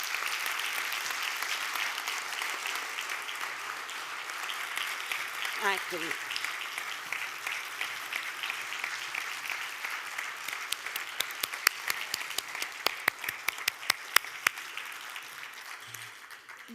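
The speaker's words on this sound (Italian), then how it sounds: "che salutiamo e accogliamo con un caloroso applauso" A warm round of audience applause welcomes choirs onto a concert stage, sustained and even throughout, with individual claps growing sharper and more distinct toward the end and a brief voice speaking over it.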